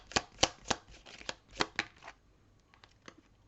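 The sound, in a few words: tarot cards being shuffled and drawn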